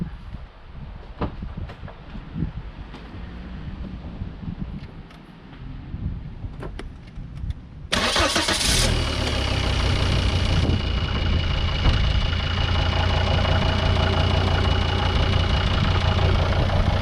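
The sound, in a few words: 2003 Volvo XC90 engine starting and idling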